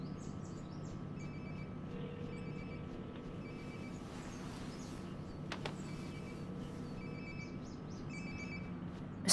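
A phone ringtone rings nearby in the video game Life is Strange, repeating in short melodic bursts over a steady low ambient hum, with no talking.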